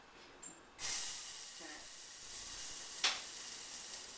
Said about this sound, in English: I'm going to simmer fry the vegetable with a little bit of garlic.